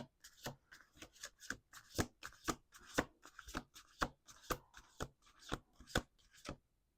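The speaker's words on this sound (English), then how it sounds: "Last shuffle." Cards are riffled and bridged in quick, crisp bursts, a steady rhythm of papery flutters heard up close with no talking.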